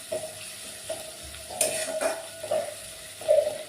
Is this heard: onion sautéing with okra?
yes